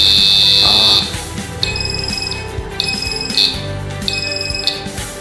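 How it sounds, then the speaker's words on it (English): A homemade fire alarm built around an NE555 timer and a phototransistor sounds its buzzer in a steady tone for the first second, then in three repeated beeping bursts over a background hum. "there was sound coming from the buzzer"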